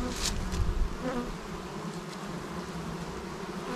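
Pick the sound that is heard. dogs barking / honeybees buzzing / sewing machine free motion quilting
honeybees buzzing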